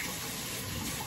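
Water runs from a kitchen tap onto a knife, a brief steady splashing gush heard close by and alone.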